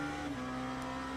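An unrestricted LMP2 race car engine in the sim racing game Le Mans Ultimate drones at a steady, sustained pitch that shifts slightly once, loud and continuous with no talk.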